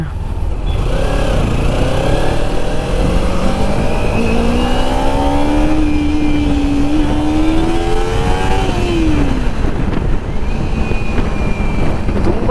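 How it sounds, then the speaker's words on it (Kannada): Motorcycle ride along a busy road, with steady wind rush and engine drone throughout and the pitch of passing vehicles sweeping up and down, loud and close with no talk. "ರೋಡ್ ಮೇಲೆ ತುಂಬ ಗಾಡಿಗಳಿವೆ"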